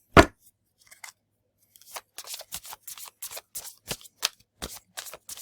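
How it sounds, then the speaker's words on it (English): Oracle cards being shuffled by hand give a sharp initial snap, then a quiet pause, then a run of quick, crisp papery flicks in irregular bursts, close and fairly soft, with no talk. "Second shuffle,"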